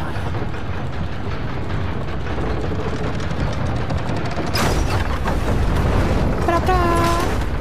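Video game sound effects in Rise of the Tomb Raider: rumbling background action, then a sudden loud cannon blast bursting a door open midway, followed by a brief ringing, whistling tail.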